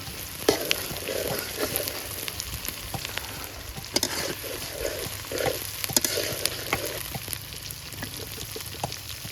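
Green chilies fry in hot oil with bay leaf and garam masala, a steady close crackling sizzle broken by sharp pops and occasional soft stirring scrapes, with no voices.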